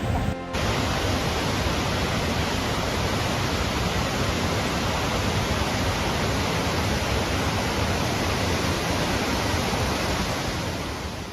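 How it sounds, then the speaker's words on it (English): Roaring waterfall in the Blue Mountains, swollen after heavy rain, pouring down as a loud, steady broadband rush that stays constant throughout with no voices. "After the heavy rain, a waterfall in the Blue Mountains suddenly came alive, crashing down in a spectacular display."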